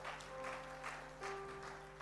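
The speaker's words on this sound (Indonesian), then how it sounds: "Mujizat, tepuk tangan bagi Allah kita." A church congregation claps together in a steady wash of applause during a sermon, sustained and fairly even throughout, with a faint tone humming underneath.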